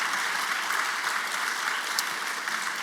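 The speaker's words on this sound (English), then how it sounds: "yes, round of applause, thank you." Sustained applause from an audience at a first-generation student celebration, dense and even clapping filling the room at moderate loudness without a break.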